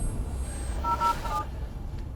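Telephone being dialed, a short run of faint electronic keypad tones, three or four quick beeps in the middle of a quiet room hum, no talk.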